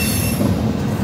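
A Norfolk Southern freight train rolls past at Central, South Carolina, a loud close continuous rumble of wagons and wheels with a faint high squeal on top, no talking.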